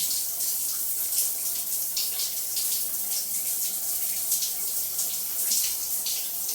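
A newly installed bathroom shower runs steadily, a dense continuous hiss of spraying water with no pauses and no voices.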